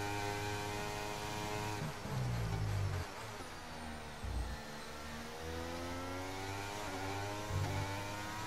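A Mercedes-powered Formula 1 car in the F1 23 video game, racing at Bahrain, holds a steady high engine whine with rising and falling pitch through gear changes, loud and continuous with no talk.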